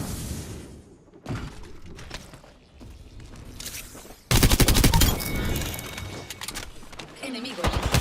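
Dense video game gunfire crackles in bursts, quieter scattered shots giving way to a loud sustained fusillade in the second half, with game voices talking over it.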